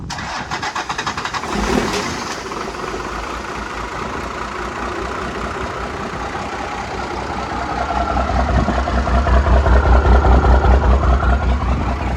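A Dodge W350 12-valve diesel truck engine, seized and flooded after years of sitting, cranks and starts, then settles into a steady rumbling idle that grows a little louder toward the end, close by.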